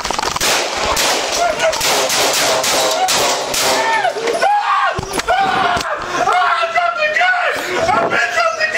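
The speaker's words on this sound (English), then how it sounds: "shots fired" Gunshots fired during a police altercation, with loud, sharp bangs in rapid succession amid shouting voices and chaotic noise.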